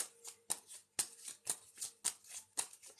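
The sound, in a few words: shuffling and drawing tarot cards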